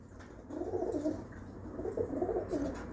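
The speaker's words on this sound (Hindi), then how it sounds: "ये टाइसन कबूतर है बड़ा" Deep, throaty cooing from a large Tyson pigeon, two rolling bursts of soft warbling coos close by over a low background hum.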